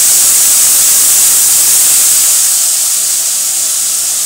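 Pomfret fish fries in a pan with turmeric and mustard, giving a loud, steady hiss of sizzling oil that eases slightly toward the end.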